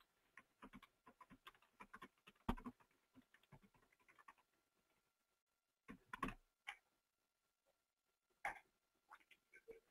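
Close, light taps on a computer keyboard while an email address is being entered, coming in uneven bursts with quiet pauses between them and a few scattered louder clicks.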